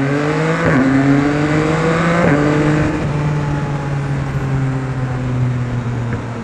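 Yamaha XSR900 motorcycle on a night ride, its engine loud and close, rising through the revs, then dropping sharply at each gear change, twice in quick succession, before holding a steady, strong drone.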